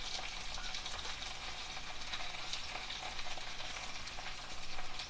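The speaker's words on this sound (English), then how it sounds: "This is how you fry a lot of tomatoes for a lot of people." Cubed green tomatoes fry in a large batch of vegetable oil, giving a steady close sizzle with faint stirring rattles throughout and no talk.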